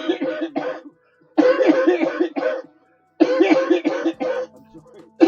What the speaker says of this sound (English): I'm coughing my ass off